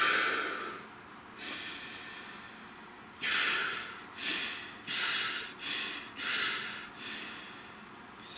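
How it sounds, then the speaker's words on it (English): A person takes slow, deep breaths close to the microphone: a series of loud, airy inhales and exhales in an unhurried rhythm, with quiet pauses between them. "Nice deep breath."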